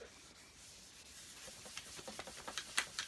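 Cloth rubbing over the aged, relic-style finish of a Hofner Beatles bass, a soft steady scrubbing that grows into short, quicker strokes toward the end, close and fairly quiet with no talking.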